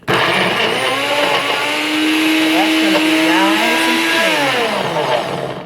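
A blender runs loudly and steadily, crushing frozen banana chunks for homemade ice cream, its motor pitch shifting as the load changes, with a voice faintly underneath.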